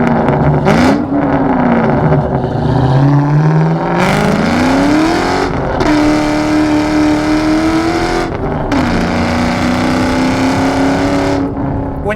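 A 2004 Ford Mustang Mach 1 with a 4.6 V8 and five-speed manual, 18K miles, driving: loud, steady engine drone that climbs in pitch and drops between gear shifts.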